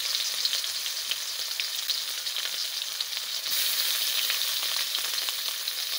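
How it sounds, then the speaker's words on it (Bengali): Spices, cardamom, cinnamon and onion-garlic paste fry in hot oil for an egg and potato curry, making a steady, close, dense hiss of sizzling that swells slightly louder midway, with no voices. "আলু দিয়ে ডিম ভুনা করার জন্য আমি গরম তেলে মশলার উপকরণগুলো দিয়ে দিচ্ছি।"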